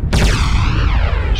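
Loud, dense weapons fire from giant battle mechs in MechWarrior Living Legends, a heavy burst with a roaring boom and sweeping tonal whine that fills the whole short span.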